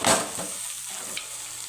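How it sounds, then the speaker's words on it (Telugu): Mixed vegetable curry with onion is stirred in a pan, a close, steady sizzle with a scraping stir at the start that settles into a soft continuous fry. "అన్నీ వేసానండి ఒక్కసారి కలిపుకుందాం"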